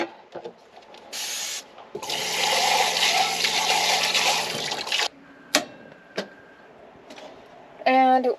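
Water gushes and splashes for a few seconds as a van's water tank drains, among quieter clatters and faint voices, followed by short bursts of rinsing water from dishwashing near the end.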